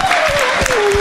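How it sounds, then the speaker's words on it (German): Congregation clapping during a worship service, a dense steady wash of many hands close by, with a sustained musical tone running beneath and no break in the applause. "Wir klatschen nochmal für Acclamons Jesus."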